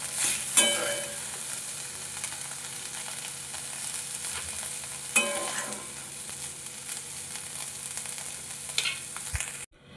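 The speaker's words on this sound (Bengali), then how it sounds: "সোয়াবিনটা আমি খুব বেশি ভাজবো না, হালকা ভেজে নিয়েছি, এবার তুলে নেব।" Soybean chunks lightly frying in a pan of oil, a steady close sizzle with sharp scraping stirs at intervals.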